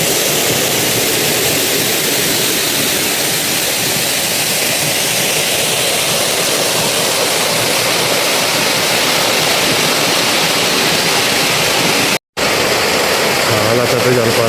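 A large waterfall on the Char Dham pilgrimage route roars loud and close as a constant broadband rush, continuous throughout apart from one brief dropout near the end.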